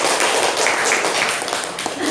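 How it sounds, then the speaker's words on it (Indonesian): A group of students in a teaching-practice classroom in Banda Aceh claps together in a brief, dense, steady burst of applause that stays loud from start to finish. "Tepuk tangan lagi"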